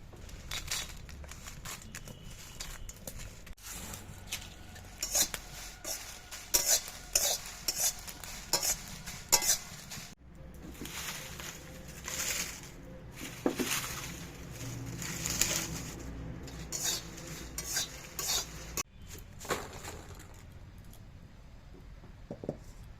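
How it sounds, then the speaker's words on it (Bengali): Dry red chillies and spices such as kalo jeera, fennel and fenugreek are dry-roasted in a hot wok, with frequent scraping stir strokes and a faint crackle, close by, while birds call softly in the background. "কড়াই গরম হয়ে গেছে শুকনো লঙ্কাটা আগে ভেজে নেবো"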